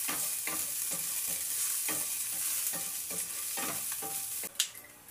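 Pork fat fries in a pan with a constant crackling sizzle, broken by repeated stirring scrapes at a steady rhythm, close and fairly loud, with a sharper clatter near the end.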